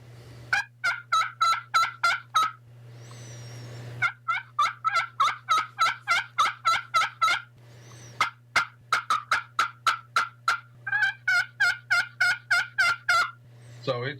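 A turkey slate call worked with a crystal striker gives rapid runs of sharp yelps in steady rhythmic bursts, close and loud, broken by short scratchy purrs between the sequences, with a constant low hum underneath.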